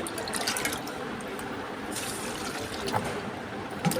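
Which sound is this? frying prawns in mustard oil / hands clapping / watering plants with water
watering plants with water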